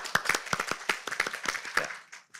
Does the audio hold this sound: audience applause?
yes